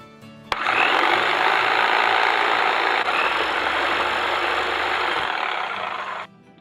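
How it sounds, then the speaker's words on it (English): A rip saw with a freshly mounted blade runs in a home workshop, its steady, loud whirring drone holding evenly for nearly six seconds before cutting off abruptly. "I mounted the blade onto my rip saw."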